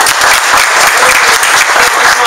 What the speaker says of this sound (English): Give them another hand and clap.